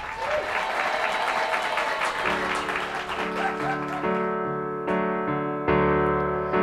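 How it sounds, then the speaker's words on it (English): Audience applause greets a performer being introduced, a dense clapping wash in the opening two seconds that then gives way to sustained music filling the rest. "Give it up for Michael Chesney"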